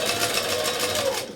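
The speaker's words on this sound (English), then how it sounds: "I'm sewing on my Sailrite machine" A Sailrite sewing machine stitches cork fabric for an envelope wallet, giving a steady, rapid mechanical whir of needle strokes up close. It runs continuously without a break and no voice is heard.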